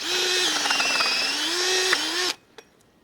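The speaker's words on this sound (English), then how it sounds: "Now I've got to drill one through to match that." A power drill whirs steadily while boring through a log, its pitch dipping briefly under load before it stops abruptly, leaving a couple of small knocks.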